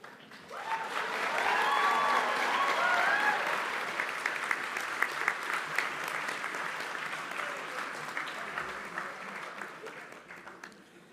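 A graduation ceremony audience applauds the graduates, with a warm, full burst of clapping and some cheering voices that swells early, then slowly thins and fades toward the end.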